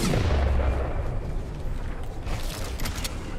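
A bomb blast in Fortnite Battle Royale, a heavy booming roar that starts loud and rumbles on for several seconds with mechanical creaks and noise trailing behind.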